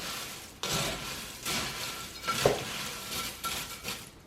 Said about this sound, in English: We're going to stir that together.